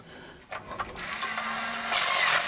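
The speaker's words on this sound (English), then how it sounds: "put my extension on, my chaser on, put my electric ratchet on" Electric ratchet with an extension and thread chaser running on a 1947 Packard engine block, a steady loud mechanical whir starting abruptly and rising in intensity near the end, preceded by a few brief clanks.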